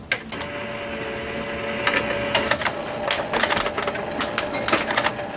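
A 1953 Genco Silver Chest pinball machine is being played, its flippers, bumpers and scoring mechanisms clacking and chattering in irregular bursts, close and loud with a faint electrical hum beneath and no talking.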